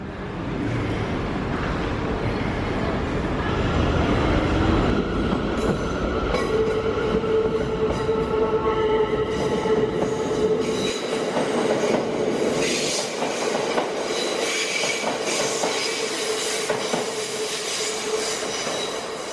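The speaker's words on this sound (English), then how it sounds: "This is my train coming." A train rumbles into a London station, wheels clattering and squealing on the rails, a loud steady roar that eases slightly toward the end.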